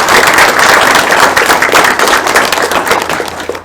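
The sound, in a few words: audience applause and clapping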